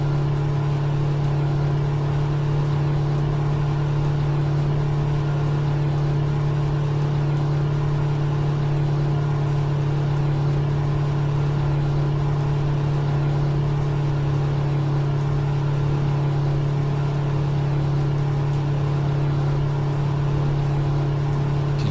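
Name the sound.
Kenworth truck engine at high RPM, American Truck Simulator video game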